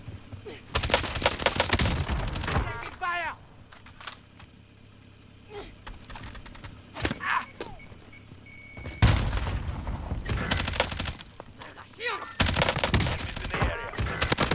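Bullfrog submachine gun bursts rattle in Call of Duty Warzone, loud rapid volleys at the start, middle and end, separated by quieter stretches with scattered shots and impacts.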